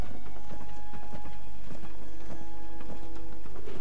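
Horse hooves clip-clop steadily as a wagon rolls along in the video game Black Desert Online, a continuous walking rhythm of close, crisp hoof strikes with a faint neigh-like tone and game ambience beneath.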